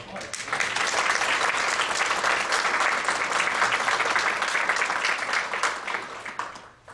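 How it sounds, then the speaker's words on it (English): An audience at an evening talk on drones breaks into sustained applause welcoming a speaker, loud and even for several seconds before fading out at the end. "with a round of applause"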